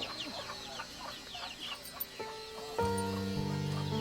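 Country chickens cluck repeatedly at close range in a poultry coop, with a sharper, louder squawk toward the end.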